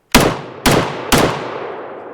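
A CZ Bren 2A2 carbine fires Phoenix ammunition in three loud, sharp shots close by, spaced roughly half a second apart, each with a trailing ring-out.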